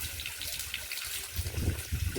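Borewell water gushes from a motor-driven pump at a village house, a faint, continuous rush of flowing water that swells slightly toward the end.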